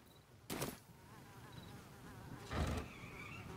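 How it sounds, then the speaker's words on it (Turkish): Buzzing fly in the video game Baldur's Gate 3, a faint steady insect drone over quiet ambience, interrupted by two brief louder rustling bursts. "Abi ne olur şu sinek sesi gitsin ya."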